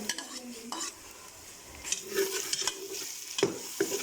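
Chopped garlic and ginger frying with onions in a karahi for mutton chaap, a soft sizzle broken by clinking stirs of a metal spoon against the pan, fairly quiet and close.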